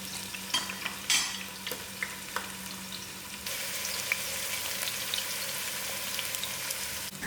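Onions fry in a pot with a close, crackling sizzle that swells louder halfway through, preceded by a few knocks and scrapes of stirring against the pot.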